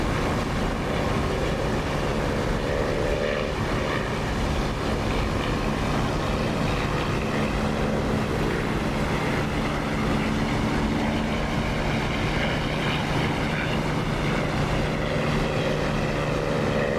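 A propeller aircraft's engine drones steadily as it throttles up and takes off in the DCS flight simulator, a loud, continuous hum with a low tonal core and broad rushing noise, no voices over it.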